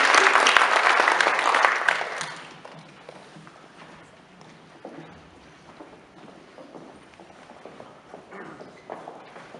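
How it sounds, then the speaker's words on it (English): An audience at an FFA chapter banquet gives a loud burst of applause for members leaving the stage. The clapping fades after about two seconds into scattered claps and quiet room noise. "Please give these members another round of applause as they exit the stage."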